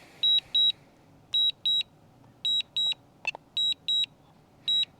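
A SkyRover X1 drone's remote controller beeps for low battery in evenly spaced pairs of high-pitched tones, repeating steadily and fairly loud over faint background noise.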